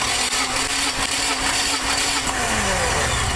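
A gasoline engine cranks on the starter during a compression test of cylinder 4, giving a continuous, loud, rhythmic churning close by for the whole stretch.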